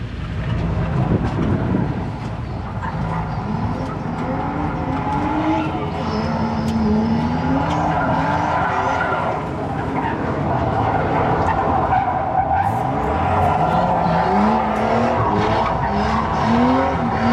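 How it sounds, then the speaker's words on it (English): Drift cars sliding with rising and falling tire squeals and skids over a constant roaring engine din, heard at a distance with no one speaking. "having all these drift cars drifting in the background is making me sad"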